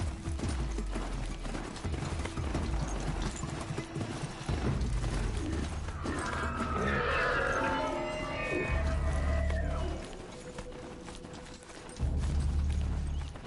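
A horse in Horizon Zero Dawn trots with steady clip-clopping hooves, then lets out a drawn-out whinny in the middle before the hoofbeats resume, close and clear.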